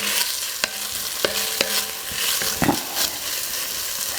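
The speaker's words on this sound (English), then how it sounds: "And stirring that around." Onions sweating in a pan for green chile stew sizzle steadily while a utensil stirs them, with several distinct scraping clicks and taps up close.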